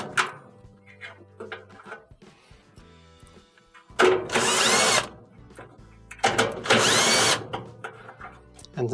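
A power drill backs 1/4-inch screws out of a Whirlpool dryer during a thermal fuse repair, two loud sustained whirring bursts of about a second each, separated by quieter clicks and handling noise.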